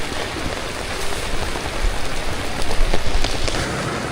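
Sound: heavy rain

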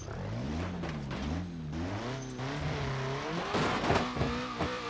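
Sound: VW Passat engine over-revving to blow up, BeamNG.drive video game

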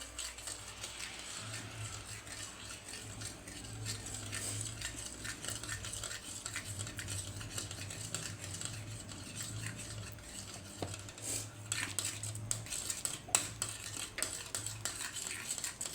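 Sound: stirring gram flour (besan) batter for pithla in a pan

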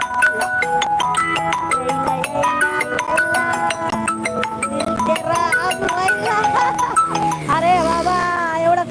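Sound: phone ringing

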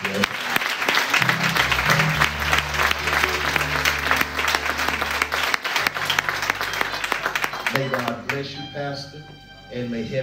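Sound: congregation applause for Pastor Donnie Hopkins

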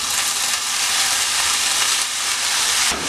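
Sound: cooked green gram added to frying spice paste

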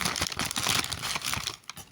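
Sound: plastic packet of sweets being torn open

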